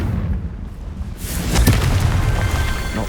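A Confringo fire spell in Hogwarts Legacy erupts as a loud, deep boom swelling out of low rumble, followed by a sustained crackling roar, with no talking.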